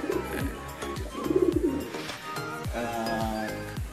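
Bayo pigeons coo repeatedly in a loft, soft throaty rolling calls overlapping one another at close range, with a few faint clicks and rustles and no clear talk.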